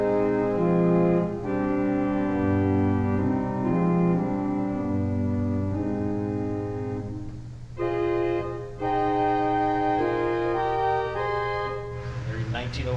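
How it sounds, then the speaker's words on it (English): A 1904 Kimball pipe organ, the Buzard-restored "Boxcar" instrument in Milwaukee's Basilica of St. Josaphat, plays on its stopped diapason stop: steady sustained chords with shifting notes and a low held bass, full and resonant, with no talk. "For comparison, here it is with the stop diapason."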